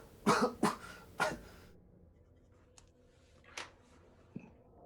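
A voice imitates a hacking coughing fit: three harsh, rapid coughs close up, then a pause and a few quieter throat-clearing rasps.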